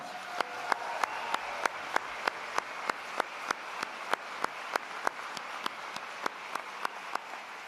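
Audience applause for a band at a university convocation ceremony, a steady wash of clapping from a seated crowd with regular sharper claps standing out, moderately loud and continuous.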